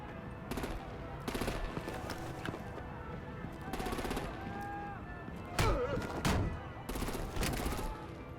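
Gunfire in Batman The Enemy Within crackles in repeated bursts of rapid automatic shots and heavier blasts, with voices talking over the combat.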